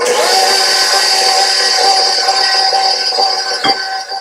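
An electric mixer beats flour and spices into pumpkin spice cake batter with a loud, steady motor whine that holds its pitch for several seconds and then dips briefly near the end.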